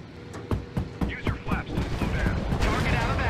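Anti-aircraft guns firing in the VR flight combat game Warplanes: Battles Over Pacific, a rapid series of loud, regularly spaced cannon bursts that blur into a sustained roar of gunfire and engine noise.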